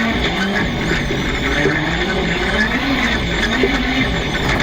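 Cars passing on a racetrack near a small donut area, a steady loud rush of engine and road noise with some tire squeal, continuous throughout.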